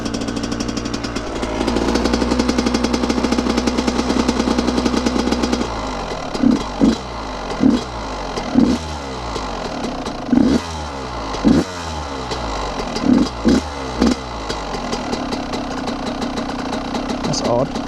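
Yamaha YZ125 two-stroke dirt bike with a new carburetor, warming up at a steady idle up close, then blipped through a series of sharp, crackling revs in a rough rhythm.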